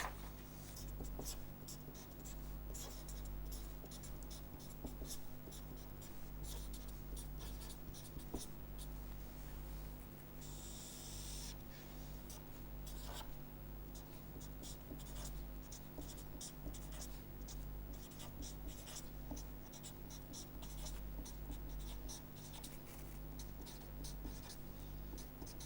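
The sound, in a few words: lecturer writing while drawing a diagram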